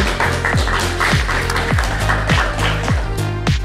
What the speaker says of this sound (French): On peut applaudir Nicolas